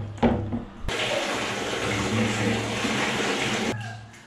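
Water gushes from a cold-water faucet for a tabo bath in the Philippines, a loud steady splashing rush that begins abruptly after a few knocks and stops sharply near the end.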